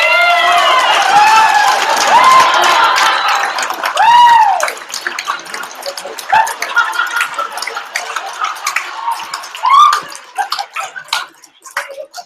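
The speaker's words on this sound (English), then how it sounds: "Give her an applause." Audience clapping and cheering at a hackathon judging night as a prize winner is announced, a dense sustained burst of applause with whoops and a loud swell near the start, then thinning out over the remaining seconds.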